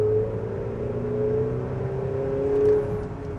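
A 2026 Buick Enclave accelerating in sport mode, a steady engine drone with a tonal whine rising gently in pitch as revs climb, heard from inside the cabin with no talk.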